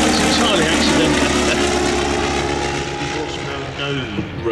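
A vintage propeller aircraft at an evening Shuttleworth airshow roars loudly past, its steady engine drone slowly fading, with a voice commenting over it.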